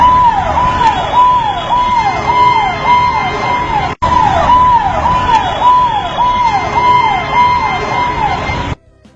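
An ambulance siren wails in steady, repeating rising and falling sweeps, loud and continuous for about nine seconds, with only a momentary break partway through.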